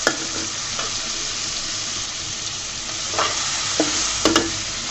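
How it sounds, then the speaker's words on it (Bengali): Shrimp frying with salt in a hot pan, giving a steady close sizzle with a few sharp spatters and light scrapes, no voices. "লবণটা দিয়ে আমি 2 মিনিট মতো ভেজে নিব।"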